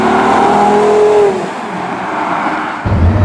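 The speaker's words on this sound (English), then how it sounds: "But on the outside, it sounds like a race car." Heard from outside, a Porsche Carrera GT supercar blares loudly as it accelerates, its pitch climbing, then drops back briefly before the engine surges again, racing-car-like and close.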